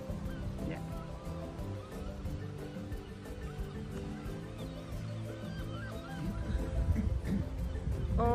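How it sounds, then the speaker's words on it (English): Seagulls calling at Polperro Harbour in Cornwall, England, with repeated cries over busy, steady harbour background noise that grows louder near the end. "You can hear is the noise of seagull."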